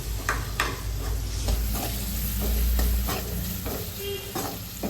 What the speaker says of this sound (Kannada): ಹಾಕ್ಕೊಂಡಿರೋ ಈರುಳ್ಳಿನ ನೀಟಾಗಿ ಮಿಕ್ಸ್ ಮಾಡ್ಕೊಳ್ಳಿ